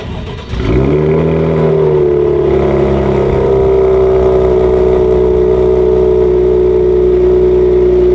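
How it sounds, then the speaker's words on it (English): Cadillac CT5-V engine cold-starting with a double throttle tap, a sharp starter catch then a loud revving burst that settles into a deep, steady high idle, close and alone. "That cold start sounds good as hell, and it's stock"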